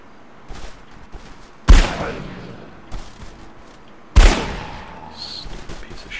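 Units firing in Age of Wonders III let out two loud, booming shots a couple of seconds apart, each with a long decaying tail, over a low background murmur.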